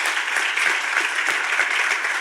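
Loud, dense audience applause at a talk on the Peruvian political system, many hands clapping close and sustained evenly for a couple of seconds with no talk over it.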